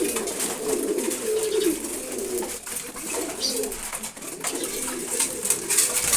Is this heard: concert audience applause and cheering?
no